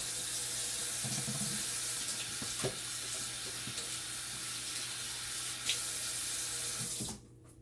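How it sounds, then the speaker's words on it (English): Hands are washed under a running kitchen faucet while preparing turkey wings, a steady close splash of water that runs continuously and then cuts off abruptly when the tap closes. "So now, what we're gonna do, we're gonna wash our hands again."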